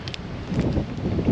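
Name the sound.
wind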